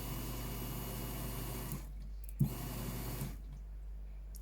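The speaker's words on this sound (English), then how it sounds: "Yeah, it's pumping fuel. It's not pumping very strong though." Fuel pump on an XR5 turbo car pushing fuel weakly through piping with a suspected hole, a steady close whirring flow that drops out briefly near the middle, then resumes, with no talk.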